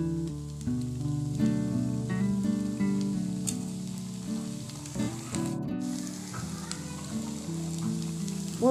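Eggs frying in a pan with potatoes and poppy seeds for Bengali dim aloor posto, a steady soft sizzle heard up close under a low hum, with a short clatter partway through.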